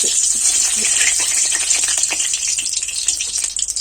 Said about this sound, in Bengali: তেলটা গরম হয়ে গেছে এর মধ্যে এবার দিয়ে দেবো একটা তেজপাতা ফাটিয়ে দিই দেবো একটা শুকনো লঙ্কা